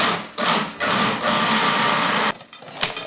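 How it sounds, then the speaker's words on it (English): A food processor runs in short bursts while blending a thick, sticky peanut butter and jam dough, its motor whirring loudly between brief pauses. "Now we're going to process this until it comes together as a very thick, dark brown dough."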